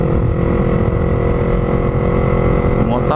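Motorcycle engine droning steadily and loudly while riding out onto a highway, a continuous low rumble with road and wind noise throughout and no pauses.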